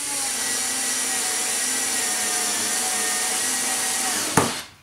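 A Ryobi TEK4 cordless screwdriver drives a screw into pre-drilled wood with a steady, close motor whine that holds for over four seconds, then stops with a brief thump and fades out.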